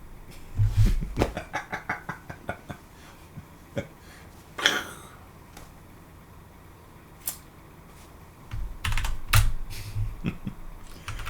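Keys tap on a computer keyboard in short bursts of close, crisp clicks, with a louder clack partway through and a soft rustle and thumps toward the end.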